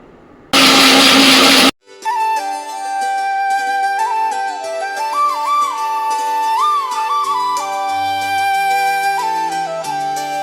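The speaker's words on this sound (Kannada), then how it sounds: "ಇಷ್ಟನ್ನು ನಾನು ಮಿಕ್ಸಿಲಿ ಪೇಸ್ಟ್ ಮಾಡ್ಕೊಬರ್ತೀನಿ" A mixer grinder roars loudly at full speed, grinding roasted gram and niger seeds into a paste, in one burst of about a second before it stops and tonal sounds take over.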